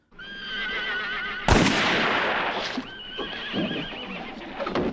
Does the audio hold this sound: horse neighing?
yes